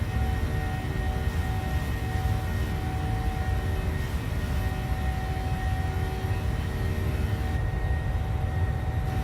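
PMDG Boeing 737-700 jet engines at takeoff in Microsoft Flight Simulator, a steady, even roar with a faint whine running unbroken throughout and no voices.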